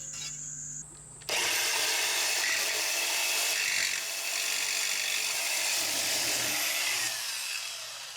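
A jigsaw cuts through wood stock in a workshop. After a brief quiet start it bursts into a loud, continuous buzzing rasp close by, holding steady for several seconds.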